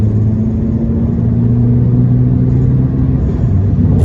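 A tuned Audi A3 8V 2.0 turbo with a Stage 1 and DSG tune pulls hard through its gears, its engine droning loud and steady from inside the cabin with no voices.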